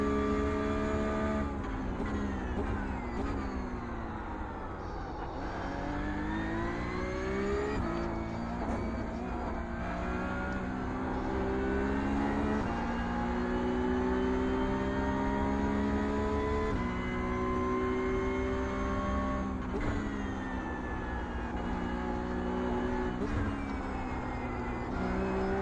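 Porsche Cup race car at the Miami circuit in iRacing: a steady, loud engine roar climbs and drops through the gears over a whole lap, with shifts and whining harmonics sweeping up and down, alone without talk.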